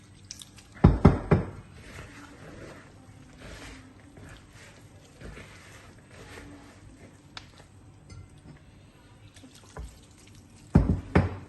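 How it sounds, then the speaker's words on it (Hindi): Water is added little by little while mixing a kadhi pakora batter, giving soft wet drips and splashy squishes. Two louder bursts stand out near the start and end, with quiet stirring between them. "ये थोड़ा थोड़ा पानी डाल के ना आपने इसे मिक्स करना है।"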